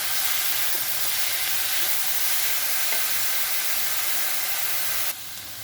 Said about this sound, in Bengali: এখন এটা ভালো করে বানাবো, কষিয়ে নেবো